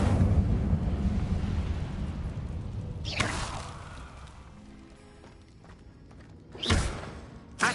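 Incendio fire spell cast in Hogwarts Legacy, heard as a loud rumbling roar that fades over a few seconds, then a sharp whooshing burst near the end, with no talk.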